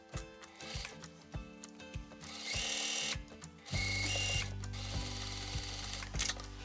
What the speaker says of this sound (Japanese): ピンで固定したら袖口をぐるっと縫い代1センチで縫います